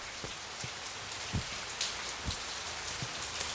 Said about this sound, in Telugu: రాజమ్మా ఏంటమ్మా ఈ వర్షంలో ఈ రాత్రిపూట ఏంటి